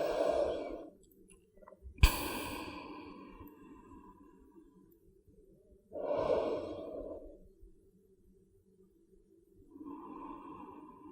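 Slow, deep breaths during a yoga pose, close and soft, with long drawn inhales and exhales separated by quiet gaps and one sharp click near the start.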